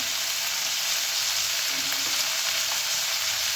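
Eggplant and slit green chilies frying in oil, a steady broadband sizzle holding evenly through the whole stretch with no talk.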